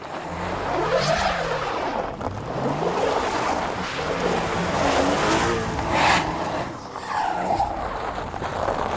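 A car struggles up a snowy hill during a winter drive in Dalarna, its engine revving and falling in repeated strained surges over crunching, spinning tires, close and continuous with no talking.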